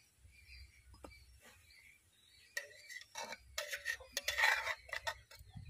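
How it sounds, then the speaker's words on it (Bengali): A pan lid is lifted and a steamed chitoi pitha made from broken-rice batter is taken out of the pan, with faint clinks and scrapes of metal utensils rising into a cluster of close clatter near the end. "এবার ঢাকনা খুলে পিঠেটা তুলে নেব।"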